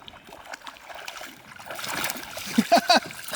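A largemouth bass strikes a Headbanger Spitfire topwater lure cast tight to trees, making a quick burst of sharp splashes near the end of a quiet stretch. An excited voice is heard along with the splashing.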